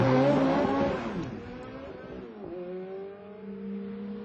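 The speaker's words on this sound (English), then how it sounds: "Push this button and a bunch of sophisticated electronics gives you a red-hot start." A Ferrari F430 makes a launch-control start and accelerates hard, its engine note rising loud and close before settling into a steady high drone with a brief shift dip midway.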